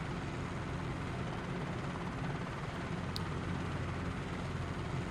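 Helicopter rotor and engine drone in Microsoft Flight Simulator, a steady broadband rumble holding level throughout with no voices.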